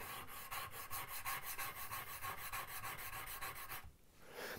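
A hand plane blade is sharpened freehand on a sharpening stone, a quick rhythmic rasping of back-and-forth strokes, close up, that stops abruptly near the end.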